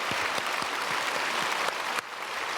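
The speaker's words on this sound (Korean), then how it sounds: "박수" A congregation at a Sunday church service claps for the choir, a dense, steady round of applause filling the hall for a couple of seconds, then thinning out near the end.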